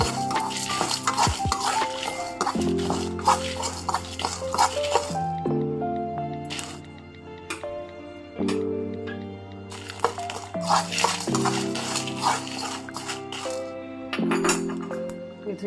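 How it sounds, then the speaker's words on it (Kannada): Four dry red chillies roasting with cumin in a pan, with steady stirring scrapes, clinks and light crackles against a low hum of background music. "ಆಮೇಲೆ ಇವಾಗ 4 ಒಣ ಮೆಣಸಿನ್ಕಾಯಿನ ಹುರ್ಕೋತಾ ಇದ್ದೀನಿ"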